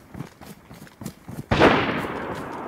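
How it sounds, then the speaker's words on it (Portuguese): Gunfire exchange in the DayZ video game: a few faint distant shots, then a sharp loud burst of gunfire that rings out and decays. "Tô vendo, os caras trocando tiro."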